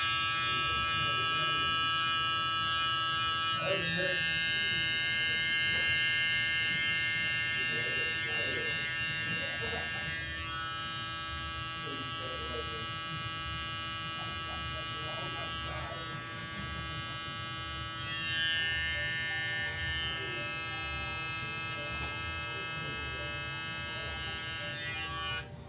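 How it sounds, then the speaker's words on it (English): An Instinct electric hair trimmer buzzes steadily at close range while cutting a sharp hairline edge, its motor hum continuous for the whole stretch with slight shifts in tone as it moves against the hair. "I'm going to switch over to the Instinct trimmer. It's super powerful and it'll help me get a really sharp line right here."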